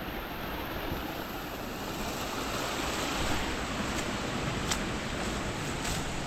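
Steady rushing water of a stream fills the scene with a broad, constant roar, loud and close, no voices heard.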